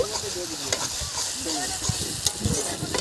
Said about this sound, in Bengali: দিয়ে দিচ্ছি রসুন বাটা দু মিনিট নেড়ে নেব